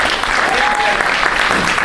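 Audience at a comedy club showcase applauds in a dense, steady wash of clapping lasting about two seconds, close and loud with no gaps.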